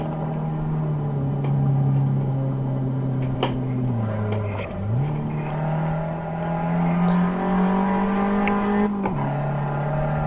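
An Abarth 500 SS engine in the Assetto Corsa racing game, a steady in-car drone that holds pitch, dips briefly on a gear change, then climbs again under throttle.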